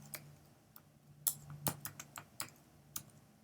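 Typing on a computer keyboard, a sparse, uneven series of quiet key clicks with brief pauses between them, heard close and alone.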